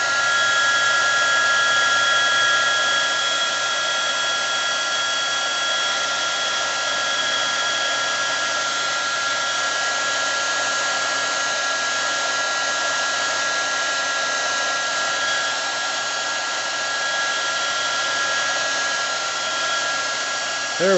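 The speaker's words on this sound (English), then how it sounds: "Get the heat gun out, and away we go." Heat gun blowing hot air onto heat shrink tubing during wiring work on a 1980 Triumph TR7: a loud, steady whooshing whine held without a break for about twenty seconds.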